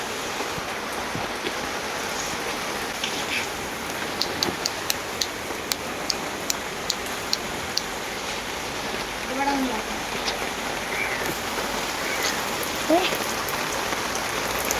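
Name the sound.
rain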